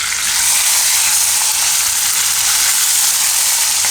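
Green and red chilies with curry leaves sizzle in hot oil, a loud, steady frying hiss that runs unbroken and close for the whole stretch with no voices.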